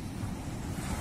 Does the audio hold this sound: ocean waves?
yes